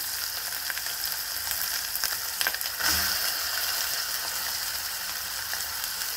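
Green chilies sizzle steadily in hot oil with prawns for a Chukkakura prawn curry, a continuous close frying hiss with a few brief stirring clatters near the middle.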